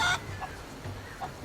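Chicken clucking in short, soft bursts, one louder call at the start and faint clucks later, with a farmyard hum underneath.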